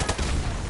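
Dense, rapid bursts of suppressing gunfire in a first-person shooter video game, loud and continuous with overlapping shots throughout.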